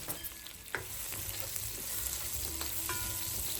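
Garlic sizzles steadily in a hot pan, a close, continuous frying hiss broken by a few light clinks and scrapes of a utensil stirring.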